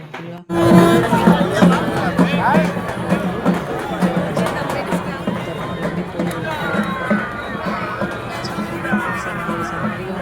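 A dense, busy crowd bustle with overlapping voices and movement, loud and continuous throughout, like a packed festival ground.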